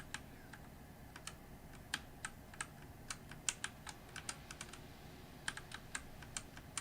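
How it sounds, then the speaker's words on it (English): Light, uneven keystrokes on a computer keyboard, a sparse string of crisp clicks with short pauses between bursts, close and quiet against a faint background hiss. "Maybe I just need to be lighter on the keys."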